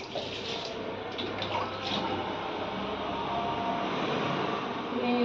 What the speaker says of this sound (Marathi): याच्यामध्ये पाणी दुसरं टाकून घ्यायचं